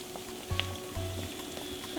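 Potato patties fry in oil that is not yet fully hot, a soft steady sizzle with a couple of brief low knocks as pieces are placed or moved.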